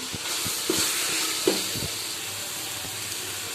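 Chicken biryani mixture with curd being stirred in a pan, giving soft scraping and sloshing strokes over a steady low sizzle, with a few brief louder knocks early on and no talking.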